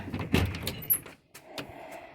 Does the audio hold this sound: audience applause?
no